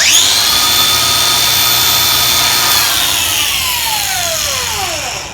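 Makita power sander in a bamboo workshop switched on, whining loudly and steadily at full speed, then its pitch begins sliding downward toward the end as it starts to spin down, with no talking.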